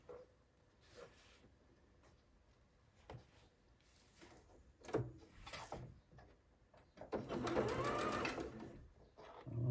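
A sewing machine stitches quilt pieces in short bursts, quiet whirring runs separated by pauses and small handling knocks, ending in a longer, louder stretch of stitching.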